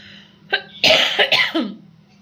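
A person coughs several times in a rough, close burst, with a brief pause between harsh hacks and no speech.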